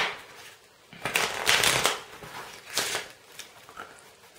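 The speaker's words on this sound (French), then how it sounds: "on va la mettre sur le dessus du paquet et on va mélanger" A deck of playing cards is shuffled by hand during a magic trick, giving several quick, soft riffling bursts close by with short pauses between them and no talking.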